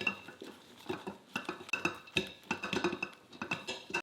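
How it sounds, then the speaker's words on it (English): Cooked noodles tossed with cornstarch in a bowl, giving a quick series of soft rustles and light clinks from the dish and utensils, close and fairly quiet, with no talk. "Sprinkle with cornstarch and toss lightly to coat."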